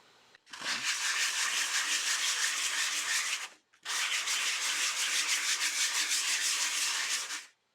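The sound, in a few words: sanding with a medium grit sanding pad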